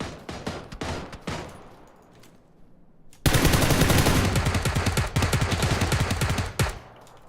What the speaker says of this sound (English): Oh, just got shot from the left.